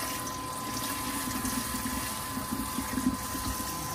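Water runs steadily from a tap while meat is washed for dinuguan, a soft, continuous splashing flow with slight bumps of handling, fairly quiet and without speech.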